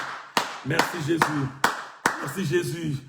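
A church congregation claps during a Tuesday-evening live-streamed worship service. Five loud, sharp claps land at uneven intervals under continuous speech and acclaiming voices.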